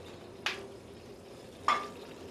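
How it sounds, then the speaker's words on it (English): Sausage browning in a hot sauté pan over a medium flame, a faint low sizzle under two brief scraping stirs. "Sausage is then browned nicely. Cooks over a medium fire until it's browned."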